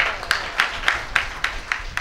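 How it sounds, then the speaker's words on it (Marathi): A crowd at a Marathi kirtan gathering claps together in a steady, even rhythm, with about seven sharp, evenly spaced beats over two seconds and no voices on top. "हा त्याच्यासाठी एकदा टाळ्या वाजवा."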